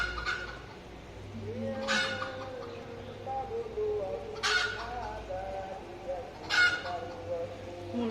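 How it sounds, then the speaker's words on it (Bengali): Chickens cluck and call outdoors near a house among trees, with a few loud, drawn-out squawking calls standing out over softer clucking and a low background hum. "মুরগি ডাকছে।"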